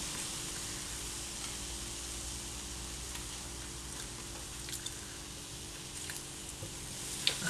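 A chickpea flour wrap cooks in a hot pan, giving a steady soft sizzle and crackle that runs throughout, with a few small pops and scrapes near the end.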